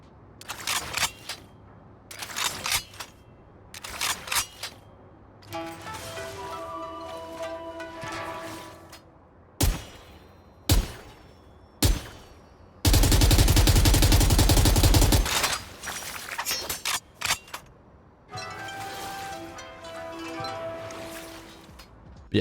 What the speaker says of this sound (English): I'll play some of the sounds of the Kuronami Phantom for you now